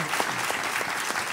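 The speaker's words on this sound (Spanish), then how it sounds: "Un aplauso por estar aquí con nosotros y un agradecimiento." Audience applause at a Canarian parranda folk music event, a steady dense wash of many hands clapping close by, lasting the whole moment without pause.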